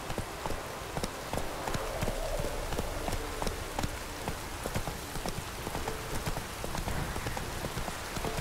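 Horse hooves clip-clop at a steady trot in The Witcher 3, a rhythmic train of sharp knocks over soft background ambience with no speech.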